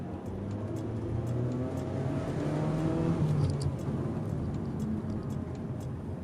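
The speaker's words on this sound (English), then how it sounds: "Then the next one is just a small acceleration straight we have here." A 2022 Mitsubishi Xpander accelerates along a test track, its engine droning and climbing in pitch through the gears with a steady whir from inside the cabin, loud and close.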